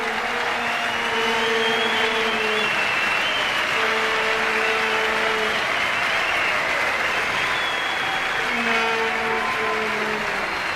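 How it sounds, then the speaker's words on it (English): Sustained applause from a small crowd at a 1989 one-day international cricket match between Pakistan and Sri Lanka, a steady, even clapping wash that runs unbroken for the whole stretch, with no voices over it. "Warm applause from this rather small crowd, but richly deserved"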